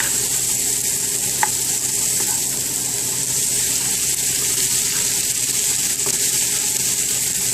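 Peas cook in butter in a pan with a steady, close, even sizzle and faint stirring, no voices.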